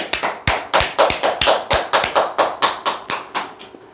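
An audience claps in a steady, unified rhythm: about a dozen sharp, close claps at a regular beat, with no other sound between them.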